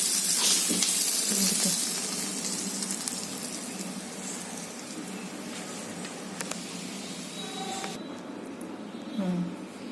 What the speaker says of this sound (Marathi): आता ना याच्यावर सगळी फोडणी टाकते